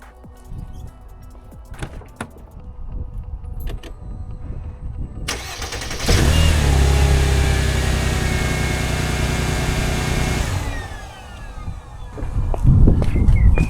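A car engine cranks over on its starter with an ANCEL Super Starter connected, a loud, steady mid-pitched turning drone lasting several seconds, preceded by faint clicks and handling noise.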